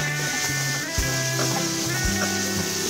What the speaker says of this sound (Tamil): இப்போ இதில் காலிஃப்ளவரை ஆட் பண்ணிடலாம். இதை நல்லா ஃப்ரை பண்ணிக்கலாம்.